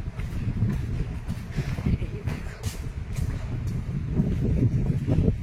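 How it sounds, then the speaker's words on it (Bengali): Wind gusts across a microphone outdoors on a sunny day, a constant low rumbling buffet that swells and eases over a few seconds with no voices. "এই দেখো হাওয়া দিচ্ছে।"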